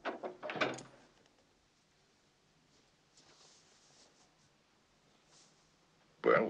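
An interior door in a 1973 Western opens at the end of a hall: a short knock-and-latch rattle at the start, then a quiet stretch, and a sharper clatter of the door at the end, close by.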